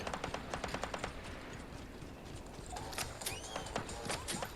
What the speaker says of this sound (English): Some shots going down.